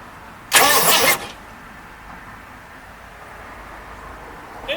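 A 1961 Imperial engine cranks over with the ignition key in one brief loud burst of starter grinding lasting under a second, followed by quiet background hum.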